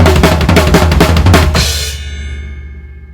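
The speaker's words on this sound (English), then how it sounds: "And then it's the big and beautiful crossover fill" Drum kit playing a loud crossover fill from a song, fast repeated hits with cymbal crashes and kick, then a crash ringing out and decaying alone.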